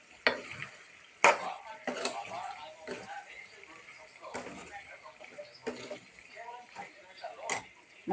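Chicken liver frying in a pan for a Sunday liver fry, with a faint sizzle under repeated loud scrapes and clatters of a spoon stirring against the metal, spread unevenly across the stretch.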